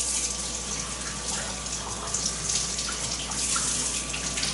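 Cold water runs steadily from a kitchen tap over a raw beef tongue being rinsed, a close, continuous splashing hiss with no talking.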